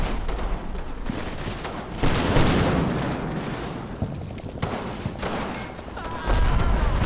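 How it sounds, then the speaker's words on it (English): Mortar rounds firing in a WWII Italian-front wargame, Combat Mission Fortress Italy, give heavy booming blasts with rumbling battle noise throughout, the loudest bursts near the start and the end. "our mortars are firing in direct fire onto the enemy in point 104"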